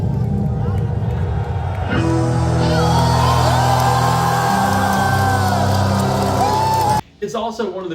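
A concert crowd roars and cheers as a band's intro kicks in after the Blade Runner intro, loud and sustained over the music for about seven seconds before cutting off.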